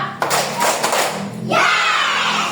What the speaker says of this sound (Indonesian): Tepuk tangan dua.